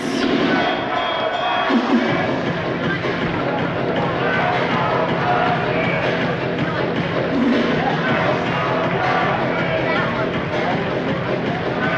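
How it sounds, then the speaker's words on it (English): Ambient crowd noise at an ice hockey game, a steady arena murmur with scattered thuds and bursts, heard under a commentator's continuous play-by-play. "Just some of the ambient crowd noise, and it's played off sides"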